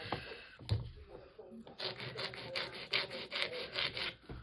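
Rasping strokes of a nail file working acrylic nails on practice flexi fingers, a quiet run of quick, rhythmic scrapes pressed hard, close by.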